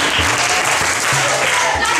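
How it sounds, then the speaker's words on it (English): Audience applause at a Ghana cultural education talk, steady dense clapping filling the whole stretch with low murmuring voices beneath it. "Clap for this guy."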